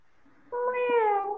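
A child imitates a cat, giving one rising, drawn-out meow after a brief quiet murmur, close and fairly loud.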